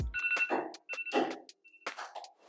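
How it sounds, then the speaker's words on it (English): A faint electronic phone alarm chimes in short repeating tones, partly masked by clattering handling sounds close by. "That's my alarm to make sure I take out the trash."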